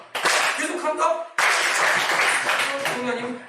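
Audience clapping in a lecture hall during a civics session, two bursts of applause from a group, the first short and the second longer and fuller, fading toward the end.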